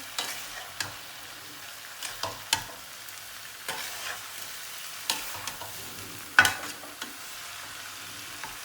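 Chicken and shredded cabbage spring roll filling is mixed in a hot pan, a low sizzle broken by scattered sharp taps and scrapes of the utensil, close and quiet, without speech.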